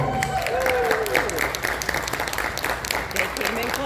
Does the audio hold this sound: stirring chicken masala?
no